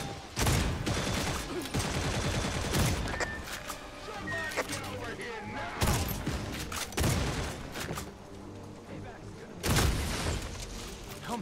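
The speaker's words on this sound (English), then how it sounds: "I'm like hip firing dudes from like 20, 30 meters away" Hip-fired gunfire in the video game Redfall, with rapid bursts of shots and heavy booming impacts recurring throughout, mixed with game effects, while a person talks over the action.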